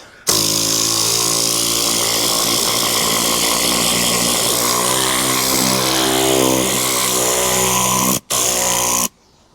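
An air blowing tool cleans the interior of a filthy Volkswagen Polo, giving a loud, steady rushing hiss that runs almost unbroken for about eight seconds, with a brief cut-off just before the end.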